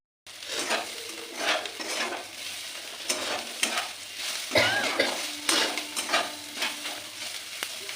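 Vegetables fry and sizzle steadily in a pan while a utensil stirs and scrapes against the metal in an irregular rhythm, close up and without talk.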